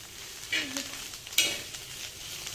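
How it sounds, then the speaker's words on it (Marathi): A spoon mixes kurdu leaf vegetable curry in an uncovered pan, giving soft scraping strokes and a couple of louder clanks over a low, steady sizzle. "आता आपण झाकण काढून घेऊ आणि मस्तपैकी एकदा परत मिक्स करू"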